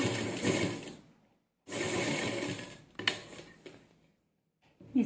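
A sewing machine stitching along a blouse neckline runs in two sustained bursts of about a second and a half, separated by a pause, then gives a few short start-stop runs with quiet gaps between them.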